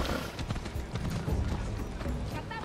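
Horse hooves pound steadily as a mount is ridden in Assassin's Creed Odyssey, a continuous rhythmic clatter at moderate volume beneath game ambience.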